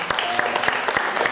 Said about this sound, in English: So please a very big round of applause to welcome Mandar.